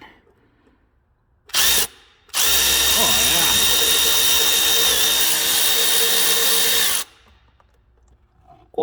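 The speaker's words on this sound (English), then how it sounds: "we got a 14 mil on the end of the electrical ratchet" An electric ratchet fitted with a 14 mm socket on an Arctic Cat 1100 Turbo gives a short whirring burst, then a loud, steady whine lasting nearly five seconds before cutting off, close by.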